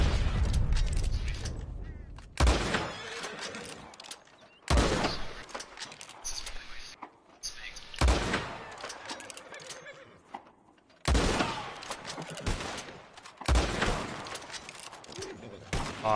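Gunshots ring out in Red Dead Redemption 2, a series of loud, sharp reports spaced a few seconds apart, each followed by a brief echoing decay, with quiet stretches between bursts.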